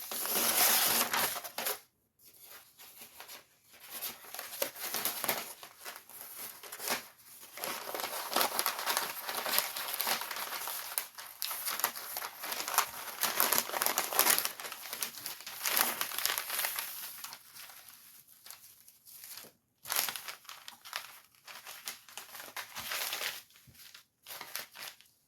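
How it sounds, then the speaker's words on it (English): Butcher paper crinkles and rustles steadily as it is slipped between the layers of a shirt for sublimation printing, a close, continuous crackling that runs for about 25 seconds with a few brief pauses. "I'm gonna apply the butcher paper in between the shirt."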